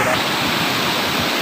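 Water spilling over Pantabangan Dam, a steady, loud broadband rush and roar of falling water, close and continuous with no breaks.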